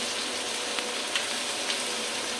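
Onion sizzles steadily in hot oil with onion and garlic paste, a dense, even frying hiss close by with a few faint stirring clicks and no talking.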